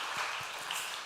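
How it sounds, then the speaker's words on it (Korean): A church congregation applauds in a brief, faint wash of many hands clapping, soft and diffuse as if heard from a distance across the sanctuary. "우리 하나님께 감사와 찬양과 영광의 박수 올려드리겠습니다"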